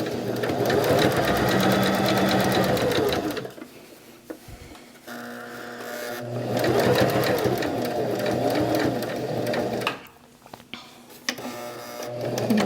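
A sewing machine stitches down quilt binding in fast, loud mechanical bursts, two long runs separated by pauses, then a shorter final run with a few clicks.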